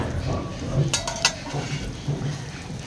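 A metal lid goes onto a cooking pot of potato and pointed gourd curry, giving a few quick, bright clinks over low kitchen background noise.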